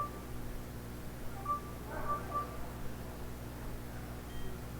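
A contactless card reader gives a few short, faint electronic beeps as a phone is held near it, heard over a steady low electrical hum.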